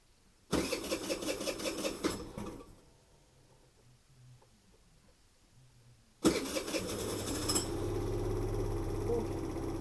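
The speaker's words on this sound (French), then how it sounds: "On va démarrer le scoot ensemble." A scooter engine starts and runs loud and close, then cuts to near quiet for a few seconds before catching again and settling into a steady idle.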